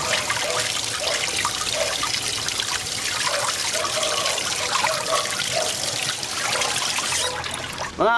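Homemade corned beef is rinsed under running water, a steady close splashing and trickling stream with small gurgling pulses, continuous for several seconds before ending abruptly.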